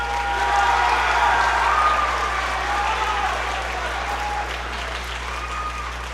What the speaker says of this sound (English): Let's give another round of applause to these students for receiving these awards